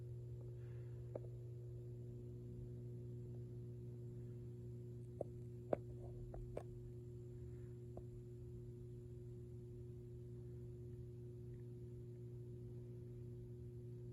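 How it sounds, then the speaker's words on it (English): The ballast of a 100 W clear Iwasaki mercury vapor bulb gives off a steady, low electrical hum, constant throughout, with a few faint clicks near the middle. "my ballast is humming quite loudly"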